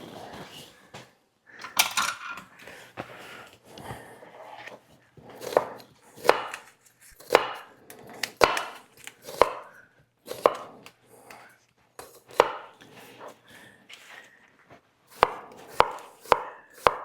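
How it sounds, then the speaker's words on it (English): Onions and garlic are chopped with a knife on a cutting board in a home kitchen, sharp close knocks coming in quick bursts and steady runs with short pauses between. "so that we can chop the onions and the garlic"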